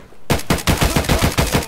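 Rapid bursts of automatic gunfire from a firefight in the video game Escape From Tarkov, loud and close. Sharp repeated shots in an irregular stuttering rhythm follow a brief quiet start and run to the end.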